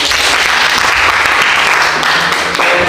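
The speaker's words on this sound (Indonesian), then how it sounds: "tepuk tangan" A classroom group claps loudly after a hotel booking role-play, dense continuous applause at close range holding an even level throughout.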